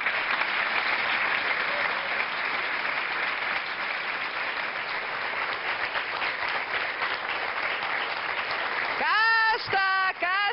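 Audience applause for a Portuguese TV team accepting the Arco-Íris award, a dense steady clapping that fills the whole stretch, with a voice cutting in near the end.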